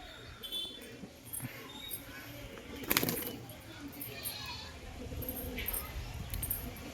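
A pigeon being handled on a rainy day gives soft, intermittent cooing and rustling, with one sharp flutter burst midway against a quiet background with faint ambient noise.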